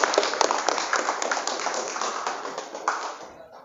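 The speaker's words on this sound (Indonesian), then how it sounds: "Tepuk tangan dong Pak Tadi." An audience claps hands at a Muslim youth motivational gathering at a villa, a brief burst of dense, fairly close applause that fades out within a few seconds.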